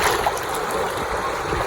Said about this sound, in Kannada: ನೀರು ಏನು ಹರಿತಿದೆಯಲ್ಲ